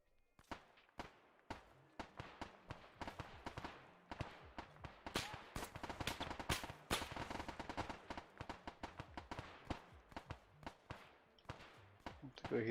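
Sustained gunfire in ArmA 3, with sharp shots and rapid bursts cracking repeatedly throughout at close to mid range, dense and irregular, with occasional voices mixed underneath.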